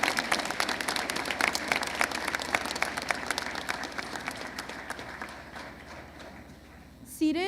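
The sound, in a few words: audience applause for special guests at Veterans Day assembly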